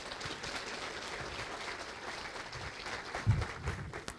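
An audience at a Brazilian entrepreneurship event claps for the sponsors, a moderate, fairly distant spread of applause in a large room, with a couple of louder thumps near the end.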